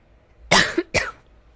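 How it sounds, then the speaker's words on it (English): A person still recovering after a Ross procedure open-heart surgery and intubation coughs twice in close succession, near and fairly loud, in an otherwise quiet room. "I still have the cough here and there"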